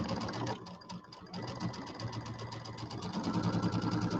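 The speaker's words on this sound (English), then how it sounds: "it is nice to have my sewing machine back where it belongs" A home sewing machine runs steadily while piecing a quilted table topper, its motor hum and rapid needle rattle continuous and close, dipping briefly near the start before resuming at full pace.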